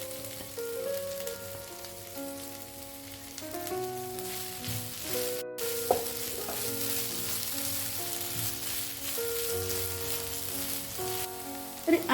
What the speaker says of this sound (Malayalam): ഇനി ഇതിലേക്ക് നമുക്ക് നേരത്തെ നമ്മൾ ഫ്രൈ ചെയ്ത് വെച്ച നമ്മുടെ ചിക്കൻ ഇട്ട് കൊടുക്കാം